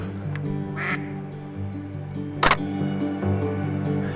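Ducks quack loudly nearby in a few short bursts over a low background, and a camera shutter clicks once sharply partway through.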